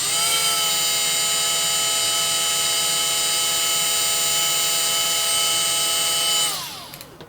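A Milwaukee M12 FUEL 1/4-inch right angle die grinder runs at a steady high whine on its lowest speed setting, loud and continuous, with sharp tonal harmonics that hold level before spinning down in the final second.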